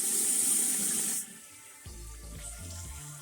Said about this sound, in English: Before you do that, wash your hands.